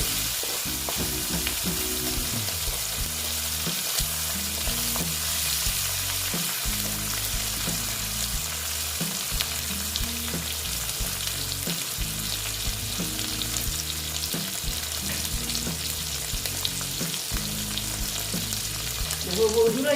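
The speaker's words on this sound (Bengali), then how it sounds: "এগুলোকে আগে আমি ভেজে নেব" Dried loitta fish fries in a pan for shutki vorta, a loud continuous sizzle and hiss with steady crackle, alone and close for the whole stretch.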